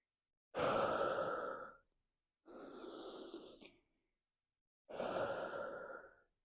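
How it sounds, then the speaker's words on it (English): Three slow, deep breaths taken during a yoga child's pose in a stretching session, each long airy exhale separated by short quiet pauses, close and clear with no talking. "taking 3 deep breaths"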